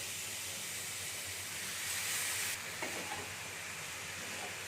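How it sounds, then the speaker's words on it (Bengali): Grated, washed potato frying in a pan for a semolina breakfast snack, with a steady, close sizzling hiss as it is stirred and a brief louder flare in the middle, with no talking. "এখানে আমি আলুটাকে নেড়ে নিচ্ছি একটু"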